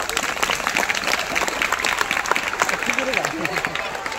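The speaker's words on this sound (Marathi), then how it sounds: "सर्वांसाठी एकदम मोठ्याने टाळ्या होऊ द्या" Audience applause at a stage skit performance, steady dense clapping throughout, with scattered voices and some talk mixed in.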